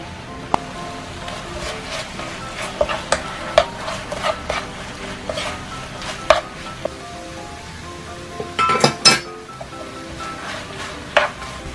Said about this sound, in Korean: 바글바글 조금 끓여주세요